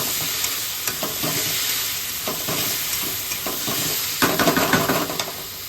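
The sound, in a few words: stirring paneer into frying spiced masala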